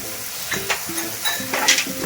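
Pasta with chili, cumin and garam masala sizzles in a pan as a spoon scrapes through it in several quick, uneven strokes, close and fairly clear.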